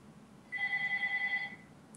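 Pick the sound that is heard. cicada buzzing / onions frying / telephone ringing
telephone ringing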